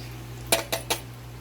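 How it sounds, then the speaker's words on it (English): A whisk knocks against the side of a bowl of batter in three quick clinks, close up over a steady background hum. "We're just going to continue whisking it"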